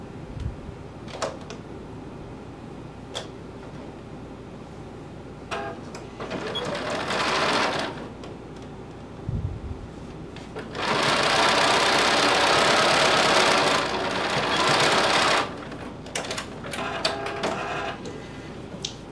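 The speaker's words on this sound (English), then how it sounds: "Now we'll sew together our shirt and then attach our band." A sewing machine stitches fabric for a DIY top, its fast mechanical rattle rising in several bursts of a few seconds each, loud and close, with quieter pauses and clicks between runs.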